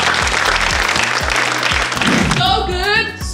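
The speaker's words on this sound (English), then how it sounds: "Please clap for them." Audience applause on the set of the Cowbellpedia quiz competition, a loud burst of clapping over thumping studio music, with a sung or sustained musical phrase rising near the end.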